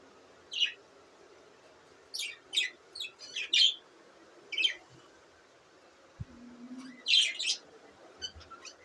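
Pet budgerigars chirp indoors in short, sharp bursts scattered over a quiet background. Some are quick clusters of high tweets and squawks, heard fairly close and alone, with a brief low hum partway through.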